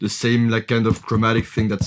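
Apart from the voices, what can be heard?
No everyday noise stands out behind the speech.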